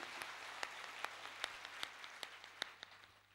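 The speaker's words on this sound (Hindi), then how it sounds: "जोरदार प्रभु के लिए तालियां बजाते हैं।" A church congregation claps in praise with a slow, steady rhythm of single distinct claps, quiet and roomy, with a low hum underneath.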